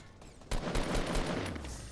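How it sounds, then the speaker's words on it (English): Rapid video game gunfire erupts suddenly, sustained overlapping shots in a dense, loud fusillade with booming low rumble underneath. "Keep shooting, keep shooting."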